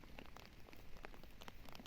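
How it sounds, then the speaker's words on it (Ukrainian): Rain falling on an umbrella: a quiet, steady patter of drops with scattered sharper taps close overhead, and no voices. "дощ іде, я під зонтиком"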